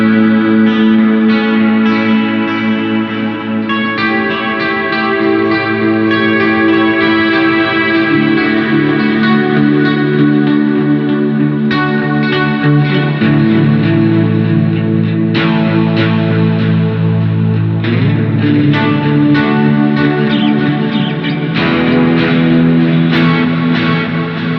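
A coil-split 1972 Telecaster on its bridge pickup rings through heavy ambient effects, sustained distorted chords washed in chorus, echo and cathedral-like reverb, loud and continuous with shifting harmonies and no talking.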